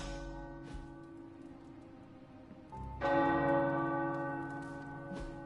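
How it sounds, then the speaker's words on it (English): Church tower bells ring out with long sustained resonant tones, a first strike fading before a louder, richer peal that lingers and slowly decays. "The tower bells are ringing."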